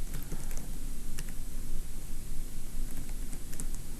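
Steady keyboard typing as code is entered on a computer, continuous close clicking of keys with light rustling and no talk.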